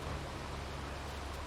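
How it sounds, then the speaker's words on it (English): Rain falls in Farming Simulator 22 as a constant, even hiss of dense drops, steady from start to finish with no voices. "It's raining, man."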